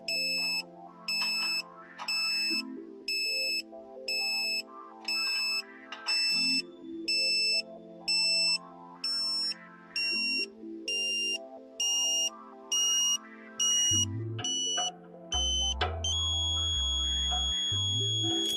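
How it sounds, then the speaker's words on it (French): A Tooway satellite finder gives a pointing tone: a regular series of short, high electronic beeps that settles into a single continuous tone near the end, with low thumps underneath. "Vous devez entendre la tonalité baisser une 2e fois."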